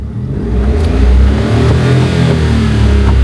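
A Daihatsu Hijet's engine revs loudly and close by, a steady mid-pitched drone that swells in the first second and holds strong throughout.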